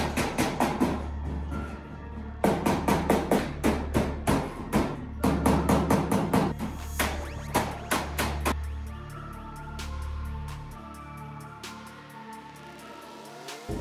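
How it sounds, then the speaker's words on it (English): A metal body seam on a home-built rat rod is struck with a hammer in fast rapid bursts of sharp ringing blows, close and loud, with short pauses between volleys and a lighter tapping toward the end. "I'm gonna go in here and hammer this seam so that it's a little bit closer together"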